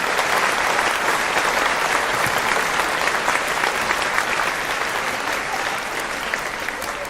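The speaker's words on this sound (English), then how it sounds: "Can I give you all a round of applause?" A group of people applauds together at the close of a participation event, dense steady clapping that fills the space for about seven seconds before easing slightly at the end.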